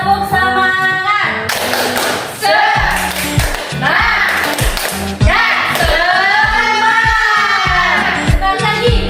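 Children in a classroom perform a rhythmic cheer clap, sharp patterned hand claps in quick bursts alongside loud group chanting, close and lively.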